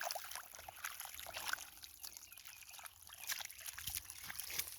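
Hose water overflowing past a log and trickling down a hill outdoors, a soft continuous dribbling and splashing with small surges, fairly close and steady, no talking.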